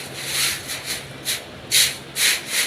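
Broom sweeping a floor at home to dislodge debris from cracks and holes: repeated scratchy, bristly strokes in an uneven rhythm, close and moderately loud, with no talking.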